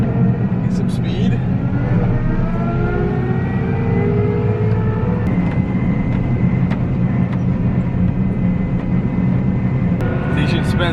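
A combine harvester speeds up on a highway on-ramp, its engine droning loud and steady with a rising pitch and heavy rumble. Voices talk over it throughout.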